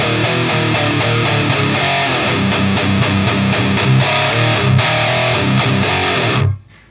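Electric guitar riff through a Fender Tone Master Pro with flat EQ, a loud, distorted, chugging pattern of palm-muted low notes and chords that plays steadily, then cuts off abruptly near the end.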